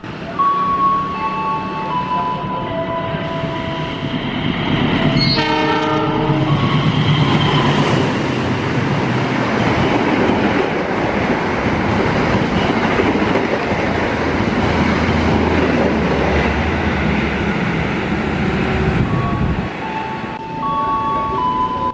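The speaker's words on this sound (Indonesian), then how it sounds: "Kemudian kereta api Brantas 152, yang mana untuk kereta ini biasanya masih memakai kereta makan yang digabung dengan kereta pembangkit." The Brantas 152 passenger train, with a dining car coupled to a power car, rumbles steadily past on Indonesian rails. Wheel clatter and a continuous roar fill the clip, and the horn sounds briefly near the start and again at the end.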